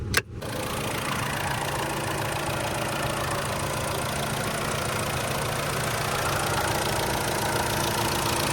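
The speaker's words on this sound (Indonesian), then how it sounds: "Sekarang gua ajak kalian untuk dengerin suara mesin, kondisi engine nyala dan AC-nya nyala." BMW E90 320i with the 2.0-litre N46 four-cylinder engine idling with the air conditioning running, a steady, smooth low hum with even tone throughout after a brief click at the start.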